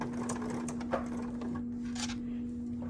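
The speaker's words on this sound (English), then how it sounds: "So I'm gonna do a few stitches and then back tack" A sewing machine, a 37D, stitches and back tacks fabric for a Dresden pillow with a close mechanical whir and rapid ticking, steady over a low hum and with short pauses between bursts.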